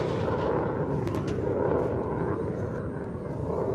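A jet aircraft flies over during an Australia Day flag-raising and citizenship ceremony, heard as a continuous broad rumbling roar held at an even loudness throughout.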